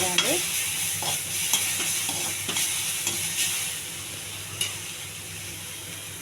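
Ingredients fry lightly in oil with a little salt, making a steady close sizzle broken by soft stirring scrapes and taps.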